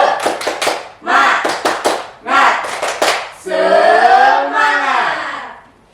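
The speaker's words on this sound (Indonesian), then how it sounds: "kita tepuk semangat dulu. Tepuk semangat!" A classroom of students does a rhythmic spirit clap, three quick bursts of patterned clapping followed by a loud group shout.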